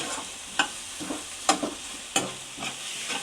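Onion sautéing in a small amount of oil for a paneer tikka masala, a soft continuous sizzle broken by several sharp scraping stirs of a spoon in the pan, close up, no talking.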